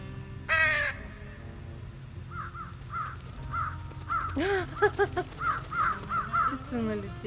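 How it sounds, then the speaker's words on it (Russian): Crows flock in within the adventure game Truberbrook, with a loud cry near the start and then a run of repeated rhythmic caws over a low ambient bed, growing busier toward the end. "Птицы налетели."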